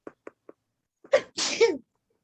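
A person sneezes sharply during a quiet classroom lecture, preceded by a few soft short breaths or clicks, the sneeze loud and close in an otherwise silent room.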